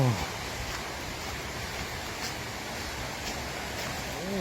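Waterfall at Pha Daeng in Ratchaburi, Thailand, a steady broadband rush of falling water that stays even and close throughout, with no talk over it.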